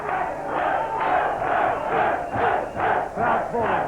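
A large arena crowd at a 1970s–80s New Zealand professional wrestling match calls out in a rhythmic chant, loud swelling voices rising and falling in repeated pulses.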